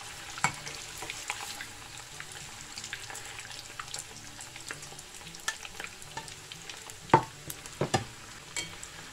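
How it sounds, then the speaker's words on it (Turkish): Meatballs fry in oil in a pot, a soft steady sizzle broken by scattered crackles and pops and a few louder stirring clatters, with no voices. "Köftelerimizi aynı yağda kızartacağız."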